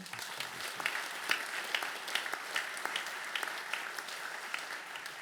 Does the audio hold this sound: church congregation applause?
yes